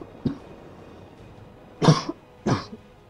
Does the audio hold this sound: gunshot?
no